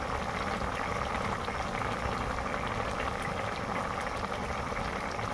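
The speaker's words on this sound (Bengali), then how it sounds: "আপাতত ফুটছে।" Prawn, ridge gourd and potato curry boiling in a pot in a Bengali village kitchen, a steady dense bubbling hiss that stays even and close throughout.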